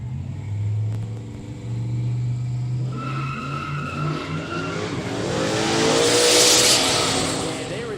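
A modified, boosted V8 car with more than a stock 304 engine revs hard at a quick street drag day, a loud close engine roar climbing in pitch with tire squeal and crowd noise.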